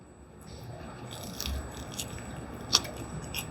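Quiet close-up crunching as someone bites into a crisp pastry at a bakery, with one sharp crackle standing out against low background noise.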